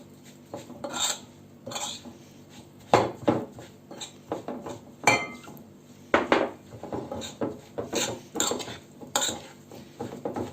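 A spoon stirring a semolina mixture in a cooking pot, with irregular bursts of scraping and clinking against the metal, some sharp knocks and quieter pauses between strokes.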